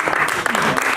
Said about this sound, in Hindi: जोरदार तालियां उनके स्वागत के लिए रजत भारद्वाज साहब के लिए।